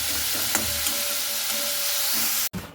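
Onions frying in a pan for a chicken dish while being stirred, a loud, dense sizzle with faint scraping that stops abruptly near the end; no one talks.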